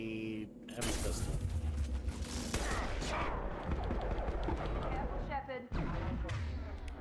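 Heavy pistol gunfire in the Mass Effect video game, rapid sharp shots and impacts in a dense, continuous firefight with crackling bursts, heard close and loud.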